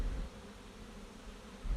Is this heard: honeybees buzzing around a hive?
yes